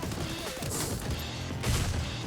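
Gunfire in the Free Fire battle royale game, with sharp bursts of shots and crashing impacts in quick succession, moderately loud and mixed with game sounds.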